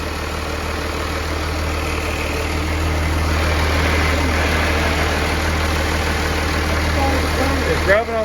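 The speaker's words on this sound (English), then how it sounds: "Why don't we try and crank this thing over and see if it starts?" A Cummins diesel swapped into a 1969 Dodge D200 Sweptline pickup runs at a steady, loud, close idle with a deep rumbling drone, ending in a brief shift near the close.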